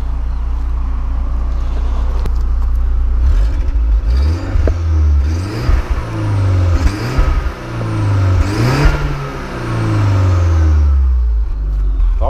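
A 2001 Audi A3 turbo's Stage 2 exhaust revs repeatedly up and down, loud and close, with a whistling turbo whine riding over the throaty rumble.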